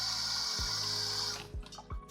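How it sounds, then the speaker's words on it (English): Hot water sloshing and rattling inside a glass dab rig as it is shaken, a steady close watery churn that ends with a few brief knocks and splashes. "then shake it while we got that hot water inside. You'll hear it getting all around."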